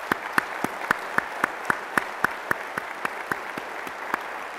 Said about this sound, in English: Can we have a round of applause for their entire team?